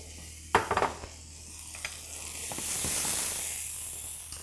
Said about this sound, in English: So white beans go in. That's a good sound.